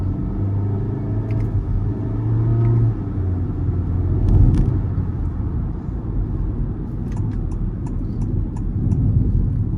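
Honda City RS petrol car accelerating uphill, a loud steady engine rumble heard from inside the cabin, swelling briefly midway, with faint clicks and no talking.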